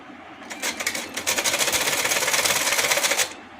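A sewing machine stitches a belted salwar in one continuous burst of fast, even mechanical whirring and clatter, close and fairly loud, starting and stopping cleanly over a few seconds with no voices.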